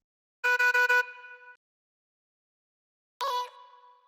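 A processed vocal sample with a bright, buzzy tone: a quick stuttered burst of chopped notes, silence, then a shorter echoing burst that trails away.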